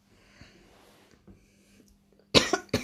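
Quiet room tone with faint rustles, then a sudden burst of close, sharp coughs, two or three hacks in quick succession.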